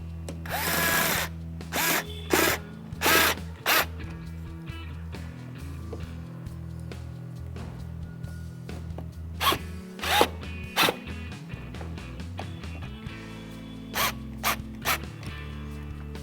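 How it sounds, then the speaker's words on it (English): A cordless drill on a low setting drives in the screws of an LED third brake light on a 2009-2014 Ford F150, heard as several short, loud whirring bursts with pauses between them. "And then with my drill"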